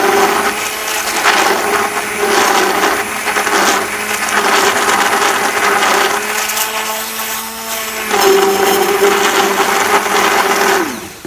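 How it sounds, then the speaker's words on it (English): An electric blender whirs steadily, loud and close, as it froths a drink, with its pitch shifting slightly as the jar is lifted partway through. "So as I'm blending it, I'm gonna pull it little bit up while I'm doing it, and that way I'm gonna get this perfect froth."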